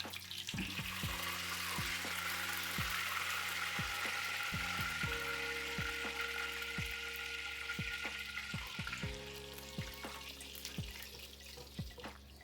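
Steady crackling sizzle of belyashi, meat-filled dough pies, frying in hot oil, with soft clinks and scraping of a utensil at intervals.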